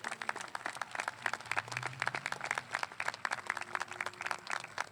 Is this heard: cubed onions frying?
no